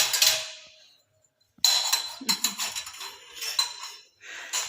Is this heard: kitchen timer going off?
no